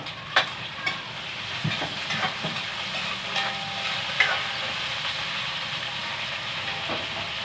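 Garlic and onion frying in a pan, a continuous close sizzle with a few light clinks and scrapes of stirring at the start, no talk.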